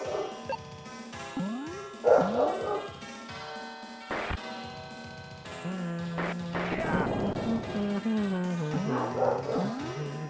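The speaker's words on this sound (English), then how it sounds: "Dog's being pretty noisy today." A dog barks several times indoors in the afternoon, sharp yips standing out over retro SNES game music and effects, with a voice occasionally talking.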